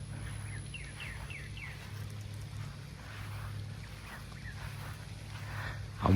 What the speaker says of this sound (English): Can y'all hear all the different bird species around here?